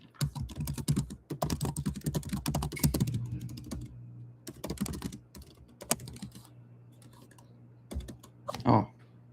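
Rapid clattering keystrokes on a loud computer keyboard come in dense close bursts, then thin out into sparse taps, with a voice talking between and over them.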